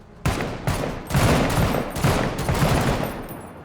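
Gunfire in the video game Menace, a loud burst of several rapid shots in quick succession, alone with no talk.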